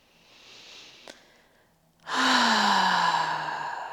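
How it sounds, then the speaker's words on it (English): During a hatha yoga session, a faint breath with a brief click gives way to a loud, close, drawn-out exhale with a slightly voiced, sighing tone that slowly tapers off. "One more breath."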